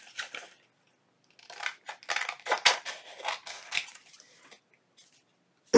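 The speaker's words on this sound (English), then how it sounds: "now I'm just going to trim around the edge" Scissors snip around the edge of a sewn paper pocket for a junk journal, a run of short crisp cuts after a brief pause, close and clear with no talk.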